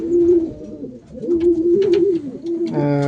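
Young racing pigeons coo in low, throaty, repeated phrases close by in a loft, with a few soft overlapping calls from other birds nearby.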